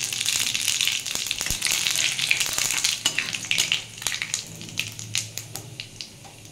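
Cumin, dry chilli, bay leaf and cardamom sizzle and crackle steadily in hot oil as whole spices are tempered for a green jackfruit curry, with scattered sharp pops rising toward the end.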